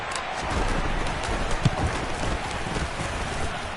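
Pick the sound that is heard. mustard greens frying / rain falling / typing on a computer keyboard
rain falling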